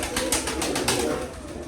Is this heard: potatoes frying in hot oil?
no